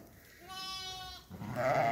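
Ewes and lambs bleating close by in a flock, a wavering sustained bleat followed by a louder, rougher overlapping cry.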